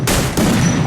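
Gunfire in a Lone Wolf video game, loud rapid bursts of shots with a brief pause before the firing resumes.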